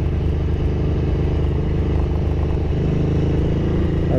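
A Ducati 900SS bevel-twin engine held at higher revs, giving a loud, steady, close rumbling drone with no break.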